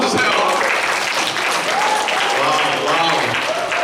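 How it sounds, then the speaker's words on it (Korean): Applause from a youth congregation during a Sunday church service, dense clapping mixed with cheers and voices, loud and steady throughout the short stretch. "박수 한번 주세요."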